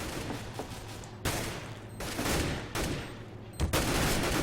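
Rifle fire in a Counter-Strike: Global Offensive tournament match at Copenhagen Games 2013: several sharp, loud bursts of automatic shots in quick succession, with no talk.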